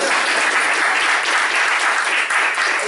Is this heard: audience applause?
yes